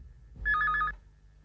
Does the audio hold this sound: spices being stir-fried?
no